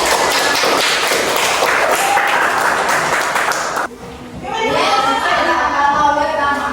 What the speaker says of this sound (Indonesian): Oke, tepuk tangan buat yang baik.